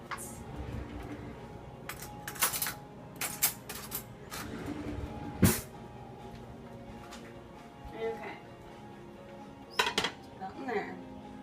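Salad being tossed and scallops plated in a kitchen bring clinks of utensils and scattered knocks of dishes and pans, with a sharp clatter midway and more clinks later, under occasional talk.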